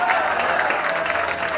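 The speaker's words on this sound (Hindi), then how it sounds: "उनके दो तालियां बजाए" Dense, continuous audience applause fills a film festival award show hall, a steady wash of many hands clapping at once with some crowd murmur beneath.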